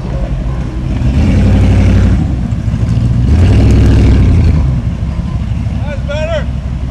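A car engine revs up and eases off twice in a row, loud and close, with brief voices toward the end.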